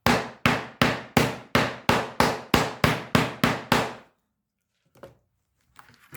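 Eleven steady hammer blows land on a homemade wood-and-screws tool punching holes into a wood wall, evenly spaced and sharp, then silence with a couple of faint knocks.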